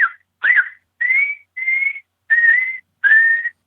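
A handheld diaphragm call worked with the breath imitates a coyote estrus whimper: six short, high, thin whines in an even rhythm, loud and close with clean silence between them.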